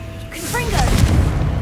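A Confringo blast spell explodes in Hogwarts Legacy, a loud rumbling boom with crackling debris, preceded by a brief voice-like whoosh of the cast.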